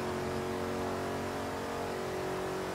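A supercharged Range Rover built for drag racing in Forza Horizon 3 roars at high revs, a loud, steady, buzzing engine drone held throughout without any talk over it.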